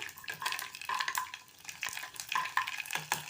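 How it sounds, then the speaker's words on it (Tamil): Sago pearls fry and puff in hot ghee for a carrot payasam, giving a close, steady crackling sizzle with bursts of popping and scraping stir sounds, no voices. "நெய் காஞ்ச உடனே அதில் பொரிய ஆரம்பிக்கும்"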